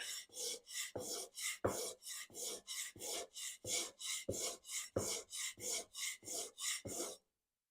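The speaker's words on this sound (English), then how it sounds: "just give it a few passes on the 180, see where we're at." A plane blade is honed on an oiled 180 grit stone, with about twenty steady rasping strokes in a quick, even back-and-forth rhythm, close and distinct, with no talk.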